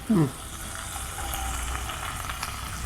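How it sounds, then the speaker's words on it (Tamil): Chopped big onions and small shallots sizzle softly in hot ghee in a pan for prawn ghee fry, giving a steady low frying hiss with a brief louder clatter at the start. "பெரிய வெங்காயம் போட்டு சின்ன வெங்காயம் போட்டு ரெண்டுத்தையுமே நல்லா வந்து நம்ம ஃப்ரை பண்ணி எடுக்கணும்"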